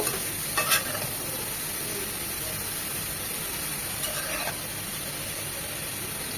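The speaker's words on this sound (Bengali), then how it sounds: "এমনি কিছুক্ষণ পরপর নেড়ে নেড়ে ভাজা ভাজা করে নেব" Chichinga (snake gourd) with onion and garlic stir-fries in a pan without added water. A constant near hiss runs throughout, broken by two brief scraping stirs, one early and one later.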